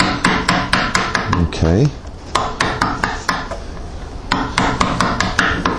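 Hand tools strike and carve wood on a Celtic-patterned toy chest, giving a steady series of sharp, close knocks in an even rhythm, pausing briefly while a voice speaks a word, then resuming.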